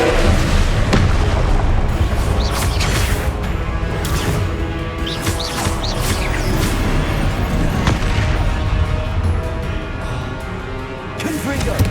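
Repeated Confringo fire-spell explosions booming and crashing in the Hogwarts Legacy video game, dense overlapping blasts filling a loud, continuous battle din with no quiet gaps.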